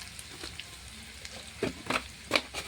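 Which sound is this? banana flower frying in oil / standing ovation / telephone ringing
banana flower frying in oil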